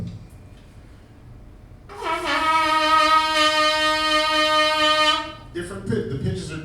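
A saxophone neck played alone gives a buzzing, reedy tone held steady for about three seconds at a jazz clinic, over faint room noise.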